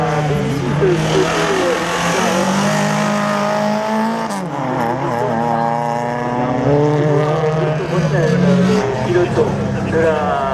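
Rally cars run a slalom course at the Slalom du Mortanais 2016, their engines droning loud and steady throughout with rising and falling revs, under an announcer's continuous commentary.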